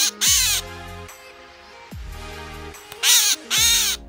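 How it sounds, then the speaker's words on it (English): A tame catbird calling in Belize, harsh nasal mewing and squawking calls in short bursts, two pairs of loud close calls separated by quieter pauses, with no talking. "It's a really tame bird."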